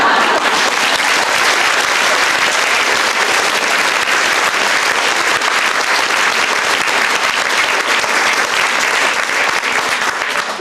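Applause from a debate audience, dense sustained clapping from a full crowd that runs unbroken and evenly loud throughout.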